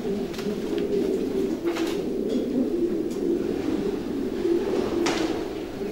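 A handling pigeon in a stud loft cooing in soft, repeated low warbles, a steady rhythmic series close by and moderately quiet with faint rustles and clicks in the background.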